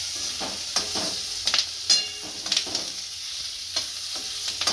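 Green chilies coated in gram flour sizzle as they roast in a pan, with a spoon scraping and stirring in irregular strokes over the steady frying hiss.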